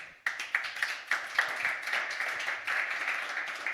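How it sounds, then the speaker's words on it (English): Festival audience applauding a panel discussion, a burst of clapping that starts abruptly and continues as a steady, moderately loud crowd applause with a few distinct claps early on. "Can we have a round of applause for the panel?"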